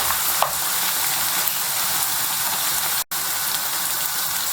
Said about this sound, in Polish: po wszystko razem mieszamy i przesmażamy jeszcze przez minutkę, może dwie